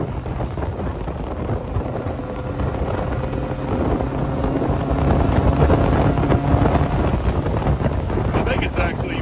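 The engine of a 1979 Fiat 124 Spider 2000 with a performance ignition module drones while the car is driving, rising and swelling midway under heavy wind buffeting.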